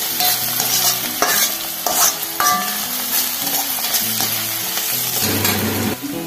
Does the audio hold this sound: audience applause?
no